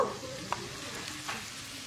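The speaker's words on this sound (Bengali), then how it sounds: "তেল ছাড়া পর্যন্ত কিন্তু এটা কষাতে হবে।" Masala for a spicy Punjabi chicken curry sautéing in oil in a pan, a soft continuous sizzle broken by a few scraping stirs, close up and steady with no talking.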